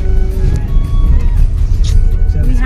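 A cab car setting off on a city outing in Raipur, its engine rumbling low and steady close by as it pulls away, with faint voices and road noise around it.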